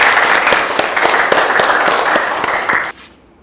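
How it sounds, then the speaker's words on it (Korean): Studio audience applause during a broadcast business interview segment, a steady dense wash of many hands clapping with a regular rhythmic beat, fairly loud and close, stopping abruptly near the end. "박수 한번 주세요."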